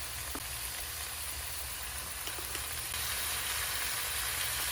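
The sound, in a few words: vegetables frying with spice pastes in pan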